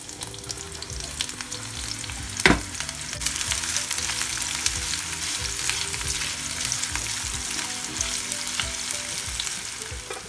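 Diced red onions sizzle in hot rapeseed oil in a pan, a steady crackling fry that runs throughout with a brief clunk of stirring near the start.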